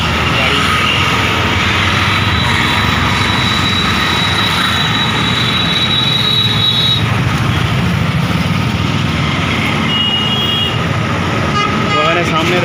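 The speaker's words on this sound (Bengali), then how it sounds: "নিচে দিয়ে ট্রেন যায় ডবল লাইন" Train running on a double-track line beneath the Raj Ghat road-rail bridge in Varanasi, a steady loud rumble with a long high whistle tone, while people talk over the noise.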